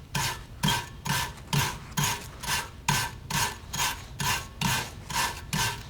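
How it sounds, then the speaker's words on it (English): A wire brush scrubs rust and grime off the rear brake hub of a 2012-2018 MK6 VW GLI in steady, rhythmic back-and-forth strokes, about a dozen evenly spaced rasping passes, close and loud with no talking. "so I'm gonna hit with a wire brush"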